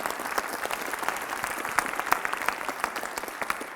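Steady applause from a high school assembly audience, dense and sustained clapping throughout with a few sharper claps standing out, no voices over it.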